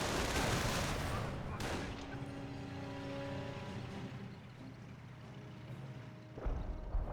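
Distant artillery barrage from the Company of Heroes game, with repeated muffled booms and rumbling impacts layered over battlefield noise, including engine hum and scattered gunfire, for several seconds without a clear break.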